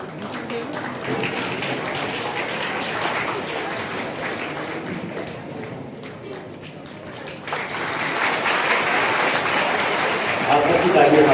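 Audience applause at a Hindi literary gathering honouring poets, a steady wash of clapping that swells louder toward the end, with voices mixed in.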